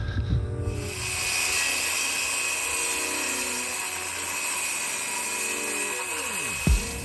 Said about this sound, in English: Cutting drywall with a skill saw is not high on the recommended list of how to actually cut drywall.